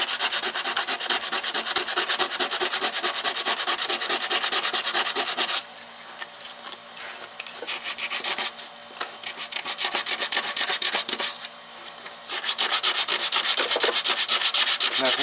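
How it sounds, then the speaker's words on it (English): Steady, close abrasive scrubbing as bondo body filler is sanded in a VW MK2 engine bay, with two brief lighter passes in the middle before the full rasping resumes. "since bondo is a lot softer than metal, it will sand down a lot faster"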